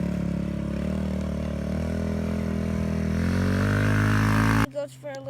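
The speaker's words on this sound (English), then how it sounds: "I started to get back on my dirt bike" A 2019 Kawasaki KLX110L pit bike engine droning at a steady, slowly rising pitch, close and loud, then cutting off abruptly near the end into sparse clatter.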